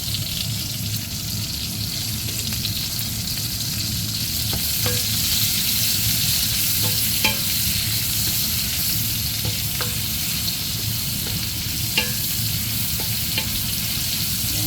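Onions stir-frying with browned meat in oil, a steady loud sizzle with occasional light clicks of a utensil against the pan, no talk.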